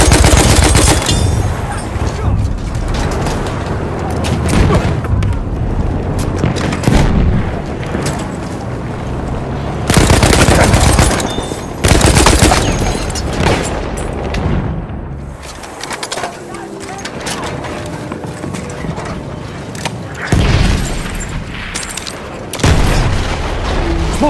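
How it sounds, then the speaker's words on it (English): Enemy gunfire in the Battlefield 1 video game comes as loud, repeated bursts and booming blasts, with heavy explosions and machine-gun rattle mixed with rumbling engine noise. "Only there's an enemy shot."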